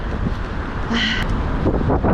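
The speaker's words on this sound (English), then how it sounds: "Still windy." Strong wind roars across the microphone while cycling through a Toronto winter day, a steady heavy buffeting rumble with gusts and rustling, loud and close throughout with no other clear sounds.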